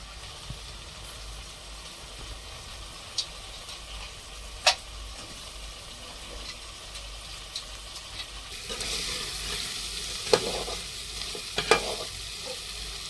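Karela (bitter gourd) curry frying and sizzling steadily in a pan, with a spoon scraping and stirring through it and occasional sharp clicks of utensil against metal, growing busier toward the end; no talking.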